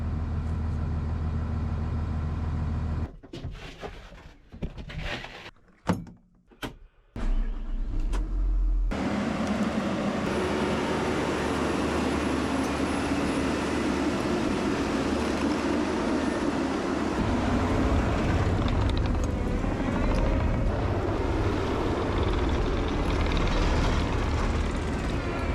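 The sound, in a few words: tracked dump truck driving at landfill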